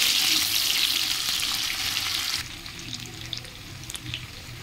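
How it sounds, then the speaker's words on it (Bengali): Chopped onions and cumin seeds sizzle loudly in hot oil, a steady bright frying hiss that drops to a quieter crackle partway through. "পেঁয়াজটাকে ভালো করে আমি ভেজে নেব।"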